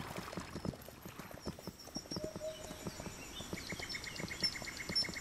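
Horse hooves clip-clop steadily in a war strategy video game, faint and rhythmic under quiet game sounds and light bird chirps, with no talking.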